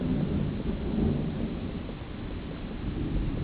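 Summer thunderstorm at night in a quiet town at 4 a.m.: steady rain hiss with a continuous low thunder rumble swelling and easing throughout, close and full, with no voices.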